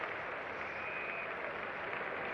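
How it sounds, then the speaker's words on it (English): A cricket crowd at a 1973 West Indies versus England Test match applauding batsman Keith Boyce as he leaves after 72, heard as a steady, distant wash of clapping with no pauses. "The crowd really rising to him here"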